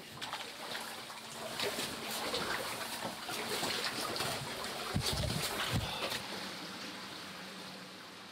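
Water flows and trickles inside a wide cave chamber, a steady splashing wash of moderate loudness with a few louder gurgling surges, fading slightly toward the end.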